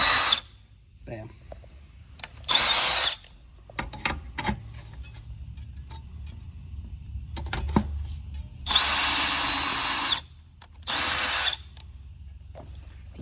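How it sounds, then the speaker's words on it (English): A power drill bores holes into a ski to mount Dynafit bindings, cutting in short loud bursts separated by quieter pauses with small ticking handling sounds. "You don't want to drill through the ski, so right when you feel that drop, it's over."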